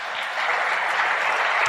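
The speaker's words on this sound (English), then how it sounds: "And that's why Gavin got this applause" A crowd applauds in a continuous, even wash of clapping that stays loud and steady throughout, with no individual claps standing out and no voices on top.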